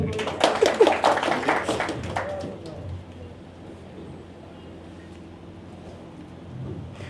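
An audience at a Malayalam health talk on Ramadan fasting claps together for about two seconds, a dense burst of handclaps that fades into quiet room tone.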